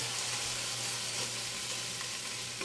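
Kangkong water spinach and shrimp sauté in a hot pan, a loud, steady close sizzle with faint stirring and no talk.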